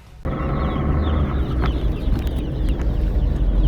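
Around a hundred broiler chicks chirp and peep together, a loud continuous chorus of overlapping high calls that starts suddenly and keeps going at the same level.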